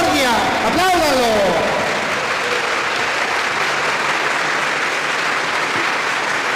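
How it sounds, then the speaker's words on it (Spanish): A church congregation claps together in sustained, loud, dense applause that fills the room, beginning under a speaking voice and then continuing on its own. "aplaudan al Dios de la vida, al Dios de la misericordia, apláudanlo"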